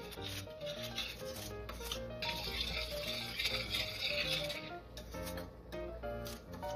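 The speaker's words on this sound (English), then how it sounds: "And you stir it up." Food is stirred in a pot on a stovetop turned up high, a soft, steady rubbing and scraping close by with a faint sizzle underneath.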